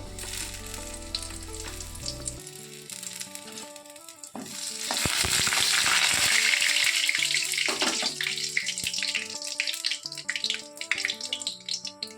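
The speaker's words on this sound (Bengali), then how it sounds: "তেলটা গরম হয়ে গেছে, তো এখন এই শুকনো লঙ্কা দিয়ে দেবো আর কটা তেজপাতা দিয়ে দেবো।" Dried red chilies and bay leaves hit hot oil in a pan, bursting into a loud, hissing sizzle midway that keeps crackling steadily over background music.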